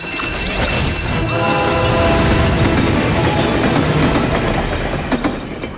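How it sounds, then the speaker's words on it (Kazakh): A cartoon train rushes past a level crossing with a loud, continuous rumble and rattle of wheels, a sustained close roar with bright metallic ringing tones over it. "Ол жабылады себебі пойыз келе жатыр."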